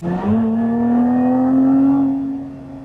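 A Lotus Emira sports car engine revs up to a sustained high whine, holds steady, then eases off as the pitch drops.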